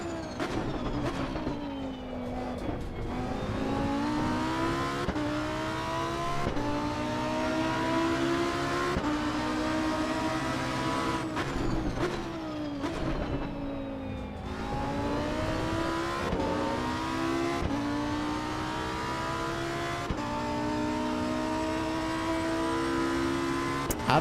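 A race car engine in the Assetto Corsa EVO driving game during a multiplayer session repeatedly climbs to full throttle and drops back through gear changes, a steady, loud, droning whine with no talk.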